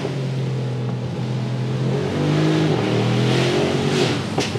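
Mercedes SL 63 AMG accelerating hard out of a corner, its engine note steady and loud, swelling and climbing in pitch halfway through, with no talk over it.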